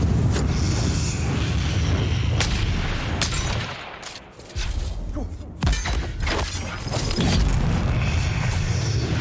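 Grenade blasts and impacts in Dune: Awakening, loud booming bursts layered over dense battle noise, with a short drop in the din midway before the roar resumes.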